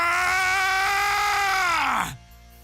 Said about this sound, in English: Goku joins his arms towards his waist and starts screaming.